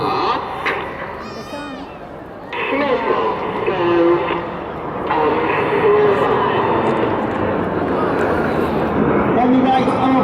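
Red Arrows jet aircraft flying past in formation at an air display at Portsoy, heard as a broad, loud jet roar that swells and sustains behind a commentator talking over a public address.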